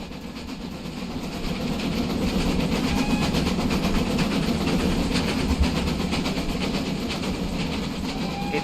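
Two GWR Manor class steam locomotives, 7820 Dinmore Manor and 7827 Doublehead, double-head a mock Torbay Express in Train Simulator Classic, with a steady rumble and rhythmic rail clatter that swells and then holds.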